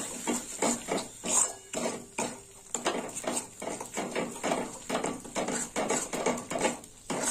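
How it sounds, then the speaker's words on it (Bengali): Spoon scraping and clinking against a pan while okra and poppy-seed curry is stirred, a steady series of close, rhythmic scrapes and taps with no talking. "এবার একটু ভালো করে নেড়ে চেড়ে নেবো।"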